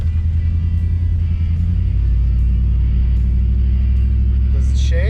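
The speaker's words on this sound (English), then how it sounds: "Let's go for a test drive to see how bad it shakes right now." Dodge Durango driving in four-wheel drive on a test drive after a driveshaft repair, a steady loud low engine and road rumble throughout, with a brief rise near the end.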